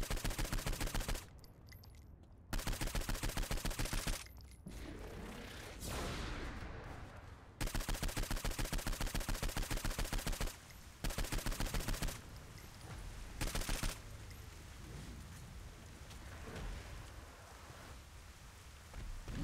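Gunfire in Saints Row 4, dense rapid bursts of shots in repeated loud volleys with short pauses between them, alternating with quieter stretches of game noise.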